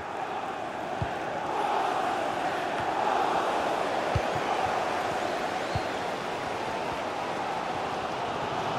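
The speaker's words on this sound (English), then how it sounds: "the crowd is certainly trying to motivate the team to push them forward to get the equaliser" A large stadium crowd in EA FC 24 during a Premier League match between Manchester City and Arsenal keeps up a steady roar of chanting and singing throughout, with a few faint thuds beneath the wash of voices.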